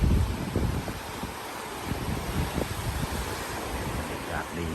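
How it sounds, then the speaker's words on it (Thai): Wind gusts across the microphone on a beach at Pak Nam Pran in Pranburi, Prachuap Khiri Khan, with a steady wash of sea waves beneath and a faint voice in the background. "เสียงลมพัดน้ำทะเลคลื่น"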